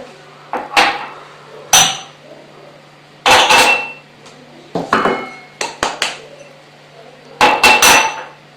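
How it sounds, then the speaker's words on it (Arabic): Sugar and eggs are mixed in a pot, heard as a series of close, loud clanks and scrapes of a utensil against metal in irregular bursts, with short pauses between. "نعمل السكر باش نبدا نخلط السكر والبيض"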